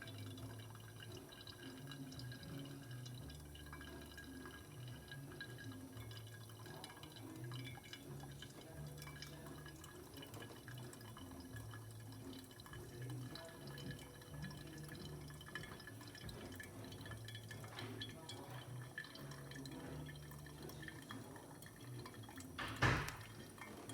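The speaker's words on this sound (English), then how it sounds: "Very slow stream of water around and around." A slow, steady trickle of water poured in circles onto coffee grounds in a V60 pour-over dripper, quiet and continuous with soft dripping, no talking.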